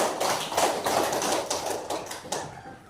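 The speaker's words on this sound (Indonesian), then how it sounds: "Berikan aplaus kepada dia" A class of schoolchildren claps together for a classmate, a dense, fast patter of many hands that stays close and fairly loud for about three seconds before fading out.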